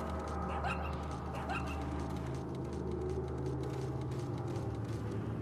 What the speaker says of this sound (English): I gotta ignore the dog.